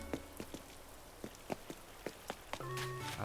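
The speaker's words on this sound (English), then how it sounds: "I can't resist. It's raining." Rain in Animal Crossing patters as scattered soft drops ticking across a quiet background, faint and irregular, with a low steadier wash rising near the end.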